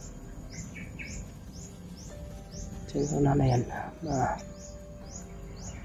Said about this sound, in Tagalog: Dami ng uwak mga tol.